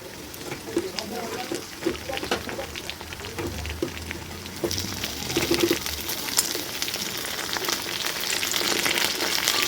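Katla fish frying in hot oil in a pan, a steady close crackling sizzle that grows louder toward the end, with occasional stirring clatter and someone speaking over it.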